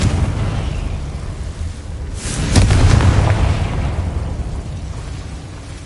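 A Confringo fire spell in a Hogwarts video game bursts with a loud booming explosion midway that rumbles and fades over a steady background hum.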